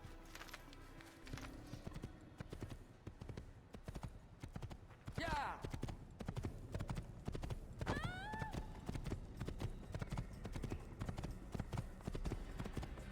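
Rhythmic clip-clop of a horse's hooves galloping steadily in Assassin's Creed, with a couple of whinnies partway through and a voice speaking intermittently over it.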